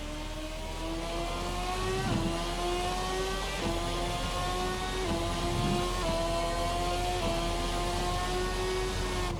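A Formula 2013 V8 race car engine in a racing sim, revving and climbing through the gears with clear rising tones broken by sharp shift drops, loud and steady with no talk.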